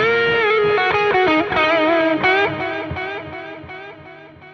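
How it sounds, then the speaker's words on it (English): An electric guitar through a GE200 Pro overdrive effect on a clean tone plays a short phrase with a gritty overdriven tone, chords and notes ringing out then fading. "Now we have an overdrive with the clean tone we just created."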